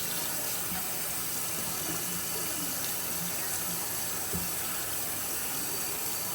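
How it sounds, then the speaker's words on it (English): Tap water runs steadily into a sink while excess bleach is rinsed from a tie-dye shirt, a constant close rush of flowing water with a few faint knocks and no speech. "you just have to wet it again to rinse out the excess bleach"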